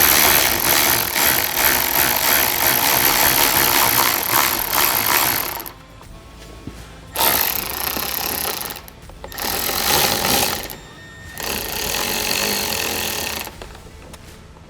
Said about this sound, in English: We're just gonna use a 4mm Allen and a 10mm wrench.